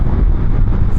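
Can-Am Ryker 800cc three-wheeled trike engine pulling hard at full throttle on a road, a loud, steady low roar filling the whole second without any voices.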